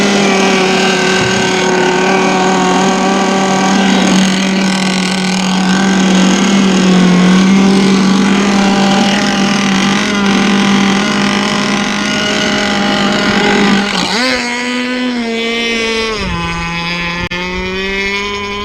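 A Zippkits SLR Thunderboat RC boat engine runs at a loud, sustained high-pitched drone, holding steady before a sharp dip and revving back up near the end.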